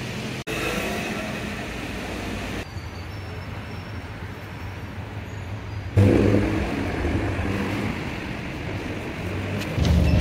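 A city bus drives along with a continuous engine drone and road rumble heard from inside the cabin, shifting in tone partway through as it pulls away and accelerates, with a brief sharp knock near the start.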